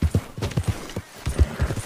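Hooves of a slow old horse in Red Dead Redemption 2 clip-clop in a steady uneven rhythm, close and moderately loud, with no talking over them.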